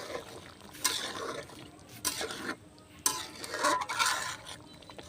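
A spoon stirs garam masala powder into prawn malai curry in a pan, giving a few distinct bursts of scraping and clinking against a low background with no talking.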